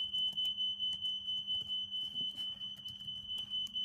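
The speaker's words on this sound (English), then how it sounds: "and the alarm's going off again" A smoke alarm going off indoors, a loud continuous high-pitched electronic tone pulsing rapidly and steadily throughout, with faint background rustling and no speech.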